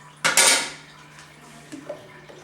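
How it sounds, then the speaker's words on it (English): A utensil stirring yeast into goat's milk in a pot for Bulgarian sirene cheese, a sharp metallic clatter near the start followed by faint scraping knocks. "Stir it in like that."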